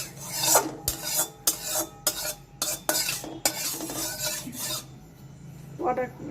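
A spoon scrapes and rubs oil around a hot wok (karai) in repeated rasping strokes, close and fairly loud, with a soft sizzle between passes and no talk.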